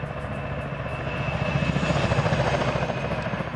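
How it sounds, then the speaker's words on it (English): Friendly military helicopter passing overhead in a PvP military video game match, carrying mounted troops, with a steady rotor and engine drone that swells louder toward the middle as it nears, heard alone with no talk. "Friendly helicopter coming over, and it's got some members of India mounted in."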